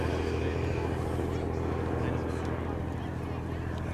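Vintage aircraft flying at the Shuttleworth evening airshow, a steady engine drone heard at a distance throughout, blended with outdoor crowd ambience and nearby voices talking.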